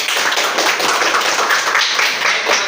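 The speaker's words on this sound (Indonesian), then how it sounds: "kita beri tepuk tangan" A class gives a group a steady round of applause after its presentation, with dense, close clapping from many hands that stays loud throughout and has no talking over it.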